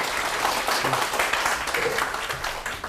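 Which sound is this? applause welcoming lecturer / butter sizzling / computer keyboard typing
applause welcoming lecturer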